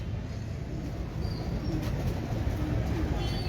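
Breeder pigeons, including Najje, Jurre and wild pigeons kept on a rooftop, coo softly and steadily over a dense low rumble of background noise, with no talking.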